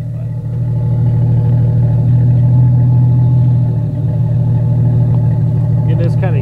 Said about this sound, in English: I'm gonna put you around back so you can hear the exhaust on it now.